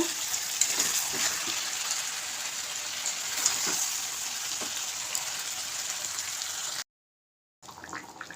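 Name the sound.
chicken being braised (kosha) in oil in a pan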